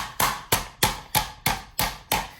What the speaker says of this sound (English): we're going to pound our veal nice and flat